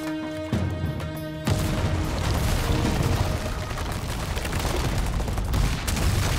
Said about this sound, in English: Must be a bit of demolition work going on the site today